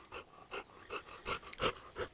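A dog gives a run of soft, short whimpers in a steady rhythm, about ten little whines close to the microphone, with no talking.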